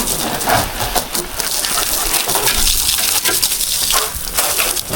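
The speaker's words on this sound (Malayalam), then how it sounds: "നൈസായിട്ട് വെള്ളം അടിക്കുന്നു, തുടക്കുന്നു, അത്രേ ഉള്ളൂ കേട്ടോ" Water sprayed steadily over a freshly painted vehicle during a quick wash, a continuous rushing, splashing gush that holds close and loud for the whole stretch, with no voices over it.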